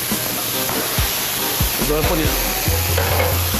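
Onion, carrots and beans cook in a hot pan with a loud, dense sizzle and hiss, while a utensil scrapes and stirs through the mixed vegetables.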